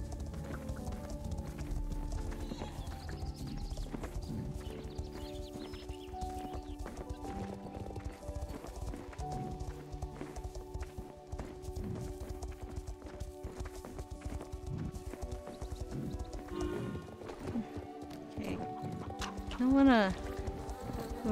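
A horse in a Western-themed video game clip-clops along at a steady trot, hoofbeats close and rhythmic under game music and a player's talk, with a brief whinny near the end.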